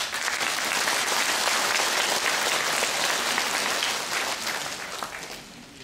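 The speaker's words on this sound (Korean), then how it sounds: "이분들을 위해서 여러분 격려의 박수 부탁드립니다" Large audience at a public rally applauding Korean War and Vietnam War veterans, a dense continuous roar of clapping that holds steady and then tapers off at the end.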